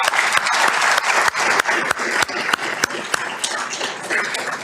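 A lecture-hall audience applauds after a talk on how fish swim, walk and fly, giving sustained, dense clapping that stays close and fairly loud throughout, with no voices over it.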